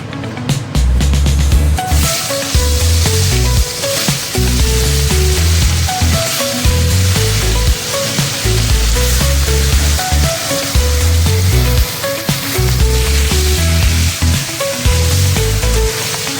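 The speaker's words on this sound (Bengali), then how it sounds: "তো এখন আমি আর মাছগুলো ভেজে নেবো।" Chapila fish frying in hot oil sizzle and crackle loudly and close, under a strong repeating low rhythmic thumping that pulses throughout, with no talking.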